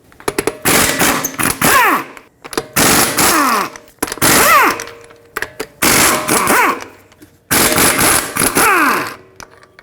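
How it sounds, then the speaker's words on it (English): Impact wrench spinning off the five lug bolts with a 17mm socket on a 2015-2024 Jeep Renegade wheel, five loud rattling bursts of about a second each with short pauses between, the pitch dropping as each bolt breaks free. "Use a 17mm socket to remove all 5 lug bolts and then remove the wheel."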